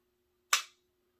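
A Sig P226 pistol dry-fired, giving a single sharp trigger click that snaps out of near silence and fades quickly, heard up close and alone.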